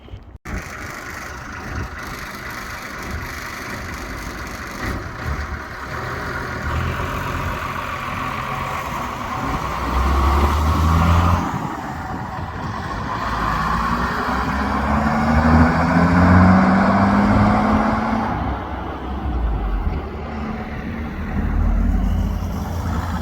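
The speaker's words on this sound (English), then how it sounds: "and then there's our bus, American military truck." Vintage American military truck engine running with a deep, continuous rumble that swells slightly in the middle and stays steady for over twenty seconds, heard outdoors among other vintage vehicles.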